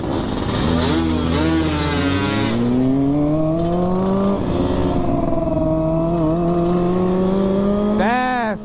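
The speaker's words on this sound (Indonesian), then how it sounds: "Kita geber-geber tuh, supaya dia terpancing." A loud, buzzy two-stroke motorcycle engine revs repeatedly close by at a night-time two-stroke motorcycle meetup in Makassar, its pitch climbing and dropping in several long throttle pulls.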